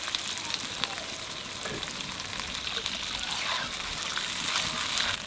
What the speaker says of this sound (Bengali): একটু মশলাটা জাল দিয়ে দেবো